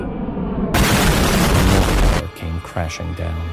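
A loud explosion blows up a tower, a sudden heavy roaring blast lasting over a second at a themed restaurant, followed by music and voices.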